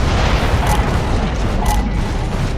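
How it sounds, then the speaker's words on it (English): Heavy mortar blasts in the Gears of War: Judgment battlefield produce a continuous loud, booming rumble with deep low-end thuds and a couple of sharper bursts. "The mortars have us pinned down!"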